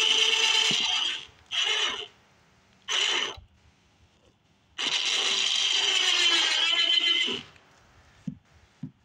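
A double pull winch mechanism that pulls in two directions runs in four separate bursts, each a loud, bright mechanical whir. The last run lasts longest, and brief clicks follow it.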